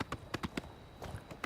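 A horse's hooves clip-clop in a quick, close, even rhythm in an Elder Scrolls video game.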